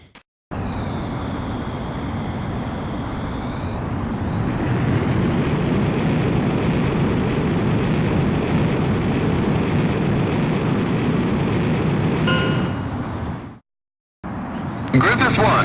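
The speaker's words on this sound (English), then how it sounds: "you are cleared for takeoff" An aircraft taking off gives a loud, continuous engine roar with a whine that climbs in pitch. It holds steady, then cuts off abruptly near the end.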